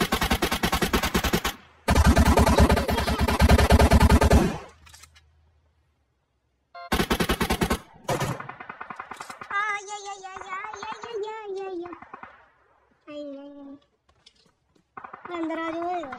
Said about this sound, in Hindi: ओए कितनी गोलियां मार रही है